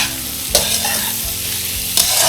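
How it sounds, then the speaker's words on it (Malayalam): Tomatoes sautéing in a hot pan for Semiya Pulao, with a steady sizzle and stirring scrapes throughout and two sharper bursts of utensil contact against the pan. "ഇത് നല്ലപോലെ ഒന്ന് വഴറ്റാം."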